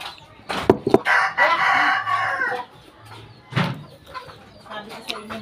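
Chickens cluck and a rooster crows nearby in a rural yard, loud clucks and a drawn-out crow mixed with short bursts of activity and occasional quiet gaps.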